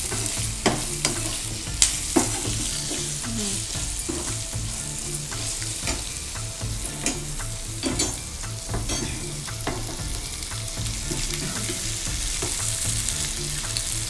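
Aloo bath being stirred in a pan, cooked rice mixed into fried potatoes with salt, giving a steady oily sizzle under repeated scraping and tossing strokes of a spoon against the pan, close and continuous with no talking.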